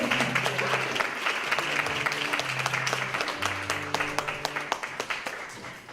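Audience applause at a mentoring talk concert, many hands clapping steadily with sharper individual claps near the end, over soft background music.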